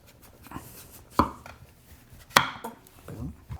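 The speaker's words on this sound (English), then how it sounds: "we're going to cut it right down the middle" Knife cutting down the middle of a peeled butternut squash, two sharp, close thunks of the blade striking the board about a second apart, with faint scraping in between.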